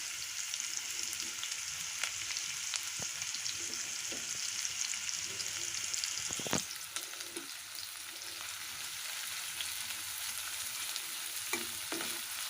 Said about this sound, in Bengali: তো তেলটা গরম হয়ে গেলে আমি পেঁয়াজ রসুন বাটাগুলো দিয়ে দিব। এগুলোকে কিছুক্ষণ ভেজে নিতে হবে।